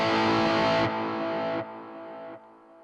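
A Marshall MG2FX guitar amp in its heavy distorted mode, with delay and reverb, sustains a dense, loud chord that gets quieter in clear steps as it trails off.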